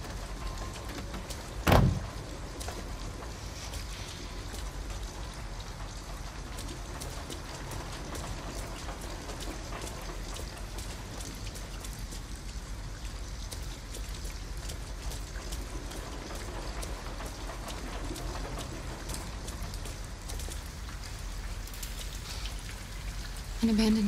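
Steady rain falls on surfaces around an abandoned house in the video game Detroit: Become Human, a constant hiss across the whole stretch with a sharp knock early on and faint voices beneath.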